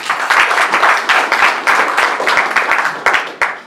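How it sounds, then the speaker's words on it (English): Close, loud applause rises at a golf tournament prize presentation, with fast, uneven clapping that swells and dips in waves. Individual hand claps stand out and fade near the end. "A hand of applause, please."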